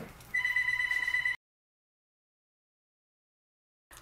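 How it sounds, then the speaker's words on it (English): A home telephone rings with one steady electronic trill lasting about a second, then falls silent, with a brief sound returning just at the very end. "And the phone rings."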